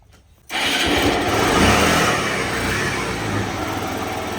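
A mini jeep's small engine catches after a brief silence and then runs loud and steady at close range, with a buzzing, rattly drone that holds to the end.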